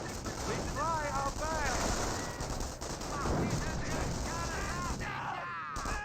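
Continuous battlefield gunfire and sniper shots from the World War II strategy game Company of Heroes, with Wehrmacht and US forces, rattle dense and loud beneath someone commentating throughout.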